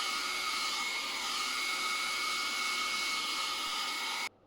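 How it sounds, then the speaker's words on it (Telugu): A hair dryer blows a steady, close, even whine while heating the adhesive of a helmet mount, running alone for about four seconds before it clicks off abruptly. "ఒకసారి హెయిర్ డ్రైయర్తో అట్లా వేడి చేసేస్తే"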